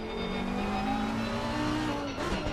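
A race car in a racing video game at Silverstone drones steadily at high revs, then its engine pitch drops as it brakes hard for a right-hand corner, with a brief squeal near the end and no talk.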